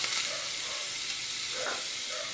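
Butter and ghee with a little olive oil sizzle steadily in a hot pan, a continuous close hiss with faint crackles and no talking.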